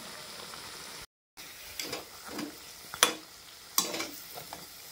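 Bread snacks deep-frying in hot oil give a steady low sizzle with scattered pops and crackles. A short silent gap breaks it early, and the frying stays fairly faint and close, with no voices.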